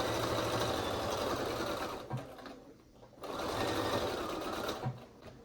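A sewing machine runs in two steady bursts as it stitches a pant pocket facing and back pocket, with a short pause between runs; the motor hum is close and continuous with no voices.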